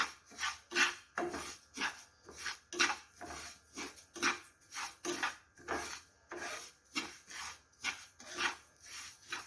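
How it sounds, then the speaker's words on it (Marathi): Mustard seeds and cumin dry-roasting in a pan, heard as rhythmic rasping scrapes repeating about twice a second, close and fairly quiet, with no voices. "तर तुम्ही बघू शकता आवाज येतोय आपल्या मोहरीचा"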